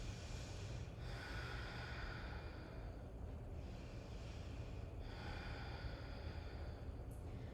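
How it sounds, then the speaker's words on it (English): Slow Ujjayi breathing during seated Ashtanga yoga practice, three long audible breaths, each a close, hollow, ocean-like rush through the throat, over a low steady background hum. "begin to fire up that Ujjayi breath"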